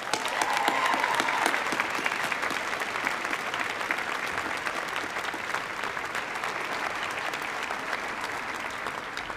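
A graduation ceremony audience applauds outdoors with a sustained, even wash of many hands clapping that holds steady throughout, with a voice briefly at the start.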